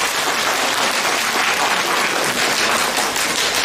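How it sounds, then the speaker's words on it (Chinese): Dense, steady applause from a theater audience at a Deyun She crosstalk (xiangsheng) show, many hands clapping together loudly and evenly for the whole stretch without letup. "这个第一次来这儿的朋友，来点掌声反馈一下好吗？"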